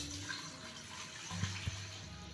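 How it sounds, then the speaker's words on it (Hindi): Water running steadily into a cooking pot in a home kitchen while preparing chicken pulao stock, a soft continuous pouring wash with a couple of faint clinks, no talking. "सबसे पहले हम एक पतीली में डालते हैं 1 लीटर पानी"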